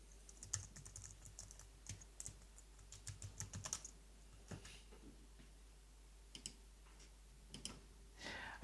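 Typing on a computer keyboard while entering a web address, with quick irregular clusters of light key clicks, close and fairly quiet, broken by short pauses and ending in a sharper final tap.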